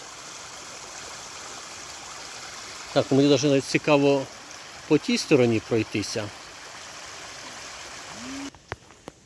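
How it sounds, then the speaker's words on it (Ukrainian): The Syrets waterfall on the Syrets river in a Kyiv grove gives a steady broadband rush of falling water throughout, while someone talks over it in the middle of the clip. "а не це часом цирецький водоспад."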